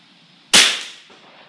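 A single sharp rifle shot from a Vudoo V22 Ridgeback .22 at a 50-yard range cracks loudly up close, then fades quickly against a quiet outdoor background.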